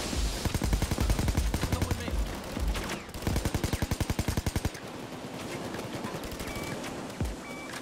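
An AK assault rifle fires rapid full-auto bursts in the video game Payday 2, loud and close, with rhythmic cracks, short pauses between bursts, and a little other game noise underneath.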